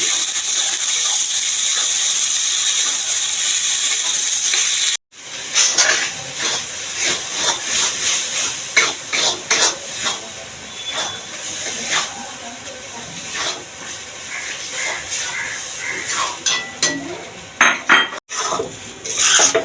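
Shidol, a fermented dried fish, sautéed with browned fried onions in a pan: a loud, steady sizzling hiss for several seconds, then repeated scraping and clattering of a spatula against the pan as it is stirred.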